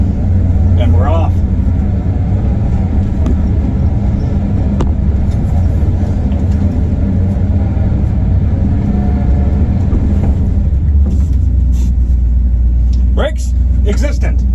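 An old field truck that sat unused for 14 years drives off, its engine and road rumble loud and steady throughout, with a few brief clatters and a voice talking over it.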